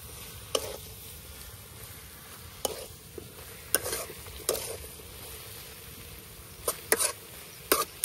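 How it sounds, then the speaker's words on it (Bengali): A spoon scrapes and clatters against a pan in scattered strokes, stirring egg and pumpkin over a soft, steady sizzle of frying food. "এখন ডিম আর মিষ্টি কুমড়াটা সুন্দর করে মিশাই নেন।"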